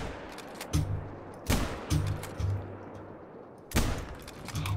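Rifle shots fired at a deer in a hunting video game: several sharp, loud gunshot cracks spaced irregularly, each with a short ringing tail over a quiet outdoor ambience.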